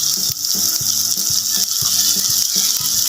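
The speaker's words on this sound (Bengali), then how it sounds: "এবার আমি ঝিনুকটা এতে দিয়ে দেবো।" Clam shells tipped into a cooking pan for a spicy clam dish, giving a close run of hard rattling, clattering knocks over a loud, steady frying sizzle.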